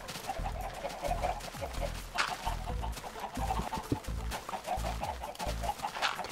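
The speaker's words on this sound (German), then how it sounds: "Könnt weg, ihr dummen Hühner." Chickens in the Minecraft video game cluck repeatedly in short, chirpy bursts over a busy game soundscape with low thumping steps, the clucks spread throughout at moderate loudness.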